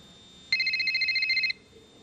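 A cellular phone rings once in a short electronic burst, a rapid warbling two-tone trill lasting about a second, clear and close, with quiet room tone before and after.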